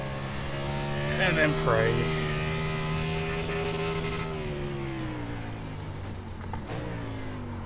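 A stock car engine in a racing video game accelerates with a strong, rising harmonic whine that climbs, shifts and holds a steady drone, while someone talks over it.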